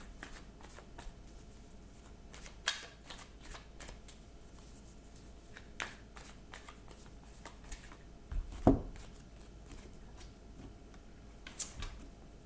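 Faint riffling and soft slaps of tarot cards being shuffled close by, a few sharper card snaps scattered over a quiet background, with no speech.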